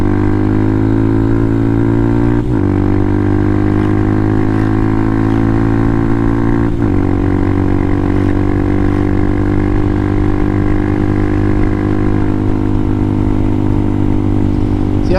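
A Yamaha MT-07 motorcycle accelerating hard through the gears, a loud close engine note rising steadily in pitch and dropping back at two quick shifts, under constant wind rush.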